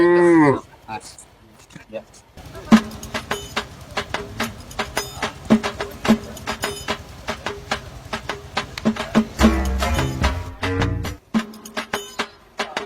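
Cattle low repeatedly at a rural livestock market, the deep moos close and loud over a steady din of crowd chatter and market bustle.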